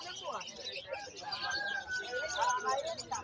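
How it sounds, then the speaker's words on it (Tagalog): Caged lovebirds chirp and whistle in short, thin bursts at a crowded poultry and bird market, their calls fairly faint beneath a busy babble of people talking nearby. "So, mga lovebird."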